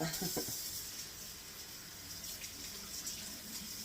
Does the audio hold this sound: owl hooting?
no